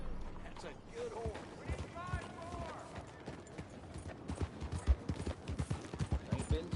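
Horse hooves clip-clop in Red Dead Redemption 2 in a steady trotting rhythm, growing louder toward the end, while a voice talks over the start.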